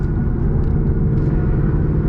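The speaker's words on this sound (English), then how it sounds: "I want to get a little bit of exhaust noise in this tunnel." A 2020 Ford Mustang GT with a Borla exhaust driving through a tunnel at night, heard from inside as a steady, deep low rumble mixed with wind noise.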